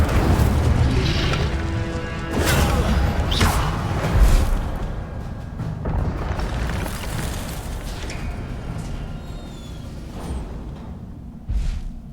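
An Incendio fire spell bursts out in the Hogwarts Legacy video game, a series of loud booming whooshes and crackling blasts that come one after another and then fade into quieter rumbles, with no talking.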